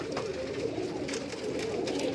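Pigeons coo softly in a rooftop coop in Karachi, a low repeated murmur of several birds fairly close, with faint background noise and no talking.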